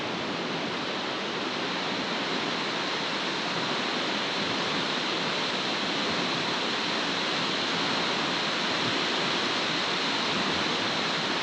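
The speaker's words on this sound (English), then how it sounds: "this is the bottom of the falls" Roar of a waterfall seen from the bottom of the falls, with mist, in Queensland: a loud, steady, broadband rushing wash that holds constant for the whole stretch, with no voices.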